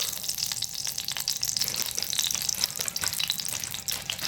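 Homemade village ghee frying in a pan for jeera rice, a steady crackling sizzle with dense popping spatters, loud and close, no voices.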